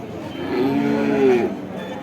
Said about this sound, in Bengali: সিন্ধি জাতের সিন্ধি জাতের দুধের গাবি